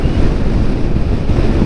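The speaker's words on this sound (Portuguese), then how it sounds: "Vamos ver se o vento tá vindo de direita agora, bem certinho" Strong wind blows across Argentina's Ruta 40 as a steady, loud, broadband roar with buffeting on the microphone, continuous for under two seconds and with no voices.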